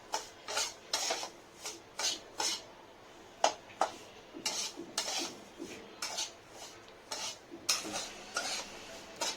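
A spoon stirring and scraping dry semolina as it roasts in a pan over medium heat, giving irregular gritty rubs and light metallic scrapes at a close, soft level without talk.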